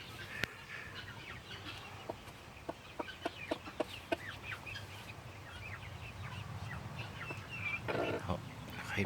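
A chicken hen clucking softly among baby guinea keets, with repeated short clucks and tiny peeping calls in a quiet outdoor setting, rustling growing toward the end.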